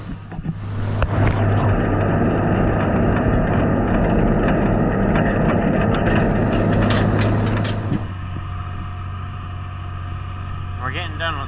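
A Ford TW25 tractor pulls a big Deutz disk through a field, its diesel engine droning loud and steady with a constant low hum, then easing down near the end as faint rattles come through.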